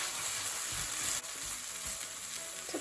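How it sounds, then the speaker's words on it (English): Onion and garlic sizzle steadily as they sauté in a hot pan, a continuous close frying hiss with faint stirring bumps and no talking. "I'm just going to saute the onion and the garlic here."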